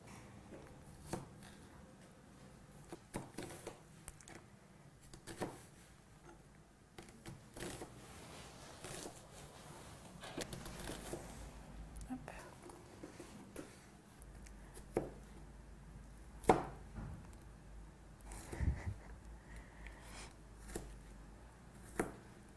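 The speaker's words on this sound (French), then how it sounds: "je vous propose de commencer par le demi-oignon et la gousse d'ail dégermée. Donc, on va ciseler finement." Half an onion and a degermed garlic clove being finely chopped with a knife on a board, producing quiet, irregular taps and clusters of cuts with pauses in between.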